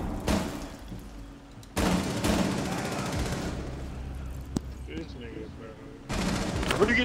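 Rapid gunfire bursts in the tactical shooter Rainbow Six Siege, loud sustained volleys with sharp cracks between them, while players talk over the shooting.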